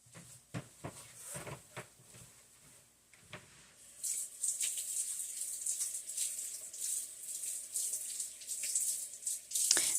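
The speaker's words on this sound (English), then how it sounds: "I had to go rinse the spoon off, or the tablespoon, I should say." A tablespoon gets rinsed under a running kitchen tap, with a few clinks of handling before the water opens into a steady, moderately loud hiss of flow for the rest of the stretch.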